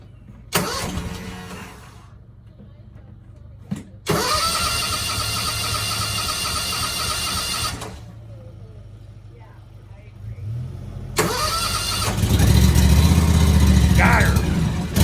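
A John Deere X350 riding mower is cranked with the key while the choke is held, giving several loud starter bursts that die away before the engine catches and runs, roaring near and loud at the end, with people talking.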